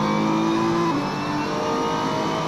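Race car in a racing video game at Donington accelerating out of a corner, a steady engine drone with a held tone that dips briefly then carries on, heard without commentary.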